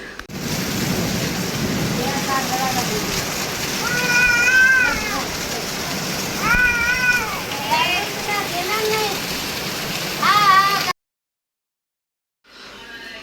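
Steady rain falls in a continuous broadband hiss through the whole stretch, with repeated cat-like meowing calls rising over it, before the sound abruptly cuts to silence.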